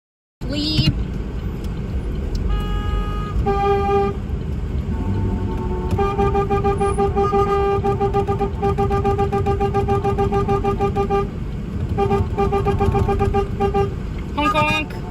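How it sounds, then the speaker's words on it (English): Car horns honk repeatedly at a slow roll car event in Saskatoon, overlapping long and short blasts over a steady rumble of traffic. The honking is loud and continuous. "Y'all hear all that honking? All that beautiful, glorious honking?"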